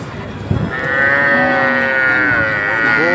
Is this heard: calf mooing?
yes